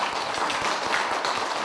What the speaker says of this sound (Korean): 우리 미미송 박사님을 위해서도 한번 우리 또 박수 한번 좀 쳐주시면 고맙습니다